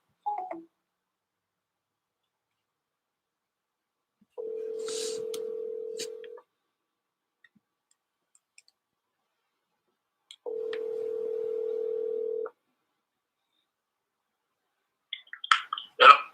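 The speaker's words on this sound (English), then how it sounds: "I'm calling from a different number, so I just want to let him know right off the bat that this is my direct line" Telephone keypad tones and dial tones from an outgoing call: two long steady dial tones separated by a silent gap, with brief dialing beeps at the start and end of a long quiet stretch.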